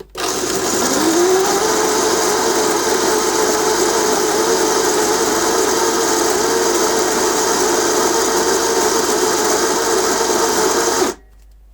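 A Shardor 64mm flat burr grinder works through about 30 grams of lightly roasted coffee beans on its finest setting, giving a loud, steady motor whine and crunch for roughly ten seconds before it cuts off.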